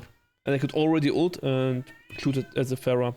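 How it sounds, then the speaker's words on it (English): A pet cat meows loudly several times close by, its cries overlapping a voice as he talks while playing Overwatch 2. "Excuse my cat."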